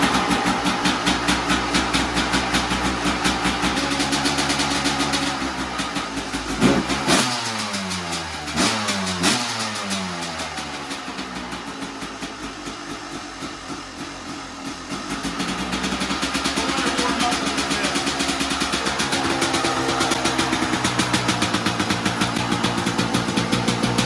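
Husqvarna WR250 two-stroke dirt bike with a Rekluse clutch, kickstarted and running: a loud, close, buzzy engine that revs up sharply with rising and falling pitch sweeps mid-clip, then settles back to a steady high idle.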